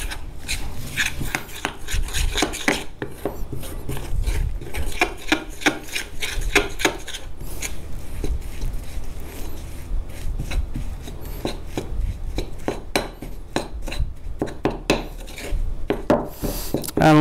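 Egg white is mixed into batter in a bowl for Korean kkanpunggi-style shrimp, with steady, rapid scraping and clinking of a utensil against the bowl continuing throughout, close and fairly loud, without speech.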